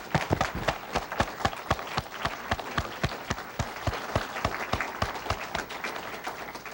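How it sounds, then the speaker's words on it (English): An audience at a 1998 Sharper Image corporate quarterly meeting breaks into a round of applause, sharp claps coming in a quick, steady rhythm from a room of people. "I think you all deserve a round of applause"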